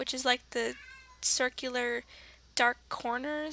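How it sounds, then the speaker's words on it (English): A pet cat meows close by in a series of short, repeated calls, some drawn out, mixed in with a person talking. "If you hear meowing, obviously that's my cat."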